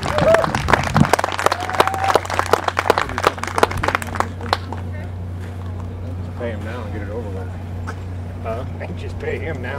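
A crowd at a model airplane flying event claps and applauds for about four seconds, then the clapping dies away, leaving a low steady hum with a voice speaking.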